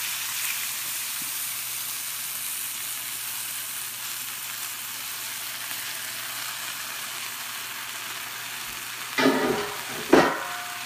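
A sauce mixture sizzles steadily in a frying pan with steak for a coffee steak, a continuous close hiss joined near the end by two sharp bursts of stirring or scraping.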